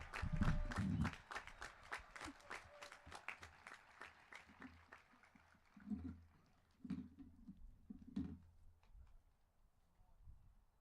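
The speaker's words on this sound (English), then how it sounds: "one more round of applause for our outstanding band and our seniors" Applause and clapping from a high school graduation crowd for the band and seniors, a dense burst at the start that thins into scattered claps and a few louder swells before fading.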